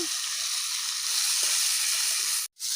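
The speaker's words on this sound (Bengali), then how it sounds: "ওই তেলের মধ্যে আমি আলুগুলো ভেজে নেবো" Potato pieces with salt and turmeric frying in oil in a kadai, a loud continuous close-up sizzle and crackle that holds steady before cutting out abruptly near the end.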